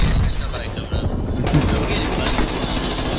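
Sentry gun in Call of Duty Black Ops Cold War firing rapid, loud bursts of automatic gunfire that grow denser partway through, with voices talking underneath.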